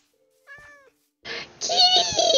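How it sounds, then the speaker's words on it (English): Cat in the video game Minecraft lets out a short meow, then after a pause a longer drawn-out mewing cry, close and clear. "Kitty!"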